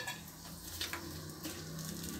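Raisins frying in a mix of ghee and oil for sweet pongal, a soft steady sizzle with occasional stirring scrapes, close but quiet.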